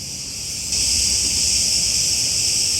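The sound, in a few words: cicadas buzzing outside in Greece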